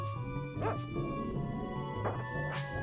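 A dog companion in the video game Secret of Evermore gives short, clipped barks and yips, a few spaced apart over steady game music.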